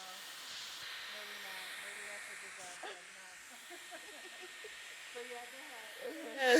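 A handheld hair dryer blows in a steady, moderately loud hiss while hair is being styled, with a person talking over it throughout and a brief louder burst at the end.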